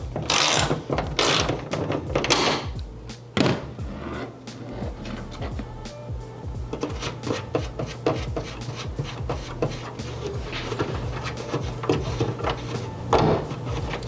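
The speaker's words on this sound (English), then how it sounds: "So I'm gonna go ahead and remove that second nut there." Ratchet wrench clicking steadily while backing a nut off a hood strut bracket on a 2022 Toyota GR86, a dense run of close, quick pawl ticks with some handling clatter.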